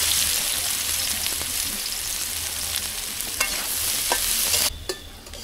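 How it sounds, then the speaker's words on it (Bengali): Onions fry and get stirred for birista for chicken dum biryani, a loud close crackling sizzle with repeated spoon scrapes and taps, fading abruptly near the end. "এখন পেঁয়াজ বেরেস্তা করে নেব।"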